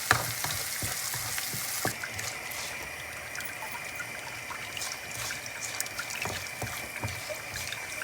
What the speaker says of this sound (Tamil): கொஞ்சம் மஞ்சள் போட்டுட்டு வதக்குவோம். நல்லா வதங்கட்டும்.